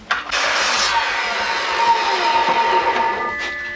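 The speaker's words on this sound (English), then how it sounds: "So I'm cutting all these cedar pickets down to about 50 inches" Power saw cutting cedar fence pickets to length for steam bending, a loud continuous whining buzz through the wood that holds steady for several seconds, close up with no talk.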